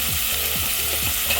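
Green chillies with turmeric sizzle steadily in a hot pan, with faint scraping of stirring repeating every half second or so and no voices.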